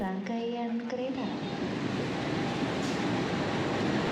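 A GE CM20EMP double-cabin diesel-electric locomotive at Gambir station in Jakarta opens with a short multi-tone horn blast, then gives way to a steady loud rumble of engine and rolling stock.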